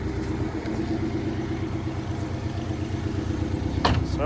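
A red 2017 Porsche Boxster's engine idles steadily with a rhythmic mid-pitched burble, close and loud throughout, with a brief clattery rise near the end and no talking.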